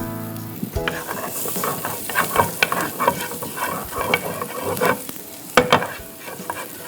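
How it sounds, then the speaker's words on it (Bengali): Chopped garlic sizzles in hot mustard oil as a utensil scrapes and stirs the pan, producing a steady frying hiss punctuated by sharp, close scraping clicks with no talking. "তো আমি এখানে রসুন কুচি দিয়ে দিচ্ছি।"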